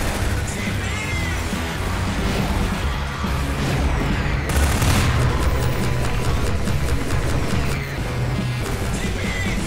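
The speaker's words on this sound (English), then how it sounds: "Keep shooting at him!" Loud, dense gunfire and explosive booms from the Half-Life 2 video game fill the whole stretch, with overlapping bursts and blasts continuing without pause up close.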